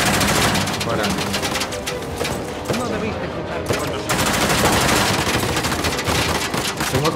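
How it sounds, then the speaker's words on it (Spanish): Rapid bursts of gunfire in the video game Uncharted: The Lost Legacy crackle almost continuously, dense and loud, with a brief thinner lull midway before the shooting picks up again. "Queríamos un tiroteo bueno, ¿no?"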